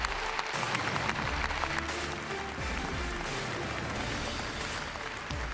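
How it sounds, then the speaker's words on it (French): A stadium crowd at a Fiorentina football match applauds for a full minute in tribute to captain Davide Astori, a dense, steady roar of clapping and crowd noise that holds at an even level throughout. "le match a été arrêté pour permettre une minute d'applaudissement"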